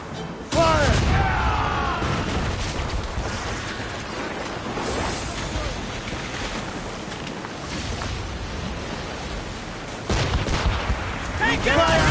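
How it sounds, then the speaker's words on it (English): Naval battle in Assassin's Creed Rogue, with ship cannon volleys booming over sea and wind noise, a loud barrage at the start and another near the end, shouted orders mixed in. "They can fire many volleys."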